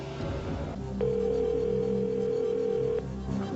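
A telephone line produces a steady two-second tone after some brief clicks, heard alone against low background noise, with the call ringing through.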